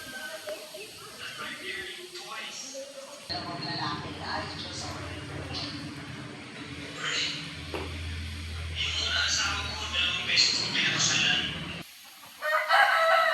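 Chickens cluck and a rooster crows at chicken coops beside an elementary school, heard from mid-distance over steady outdoor background noise, with a person talking throughout.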